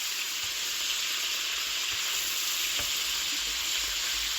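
Meat for tacos sizzles steadily in a hot pan, a dense, continuous frying hiss with a few faint clicks from stirring, close and fairly loud with no talking.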